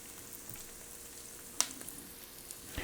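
Sautéed pork chops rendering in a pan send up a soft, steady sizzle, broken by a few sharp pops and spits of fat, with no one talking.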